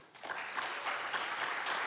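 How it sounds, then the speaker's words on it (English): An audience breaks into a round of applause at a Mesa community morning event, clapping rising quickly and holding steady as a dense, even wash of hands. "Round of applause if your business in any way is positively impacted by the Cactus League spring training here."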